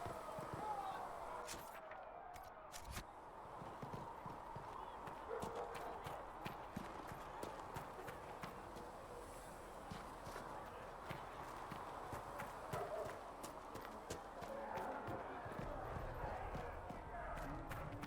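In the video game Dragon Age: Inquisition, horse hooves clip-clop in a steady walking rhythm for the whole stretch, close and clear over ambient background.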